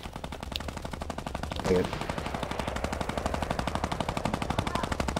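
Rapid automatic gunfire rattles continuously during a Fortnite fight, a fast steady stream of shots with a brief louder burst, while a voice speaks briefly over it.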